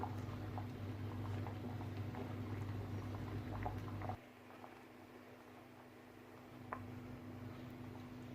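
Sweet corn boils in a pot of water, a faint, steady low bubbling and simmer with light ticks and pops, a background hum dropping away partway through.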